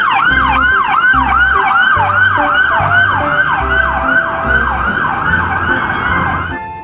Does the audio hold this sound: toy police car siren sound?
yes